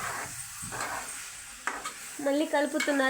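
A spoon stirs coriander powder into chicken curry in a pot, scraping and sizzling in short bursts, with a few clinks toward the end.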